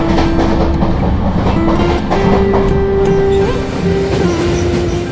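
An Indian passenger train moves at speed with a steady, close clickety-clack and a dense rolling rumble throughout, and no voices.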